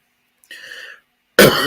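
A single throaty cough, then a louder, harsher burst of coughing at the end, close to the listener with silence between.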